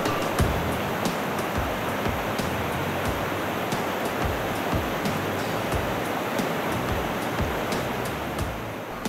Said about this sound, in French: une petite cascade qui se jette à l'extrémité d'un autre bras de mer